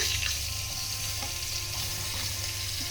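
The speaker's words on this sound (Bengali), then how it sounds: "এই যে পটলগুলোকে ভেজে নেব হালকা করে, আমি খোলাগুলোকে ভালো করে ভেজে নেব।" Pointed gourd peels crackle and sizzle in hot oil, a dense, steady frying hiss heard up close with faint stirring, no voices.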